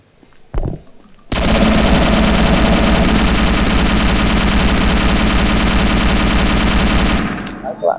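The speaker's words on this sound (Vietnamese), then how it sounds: "Băng của nó 58 viên nhưng sao bắn nhanh thế nhỉ?" A 58-round gun in a shooting video game fires one long, loud, rapid sustained burst for about six seconds after a single opening shot, then stops abruptly.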